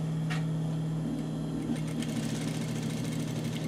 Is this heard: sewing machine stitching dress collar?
yes